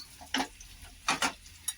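A few short scraping strokes of a spoon stirring thick spiced potatoes with coriander and dried mango powder in a pan, three distinct bursts separated by pauses, fairly close.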